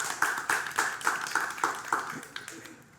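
A small group claps at a startup pitch event award ceremony, about ten distinct hand claps in a loose steady rhythm that thins out toward the end, fairly quiet and close.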